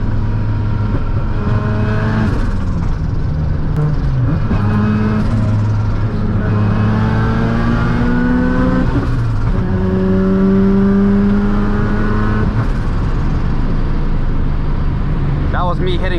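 Mazda RX7 engine revving hard and bouncing off the rev limiter during a race drive, a loud, continuous in-car drone whose pitch climbs and drops repeatedly, with talk over it.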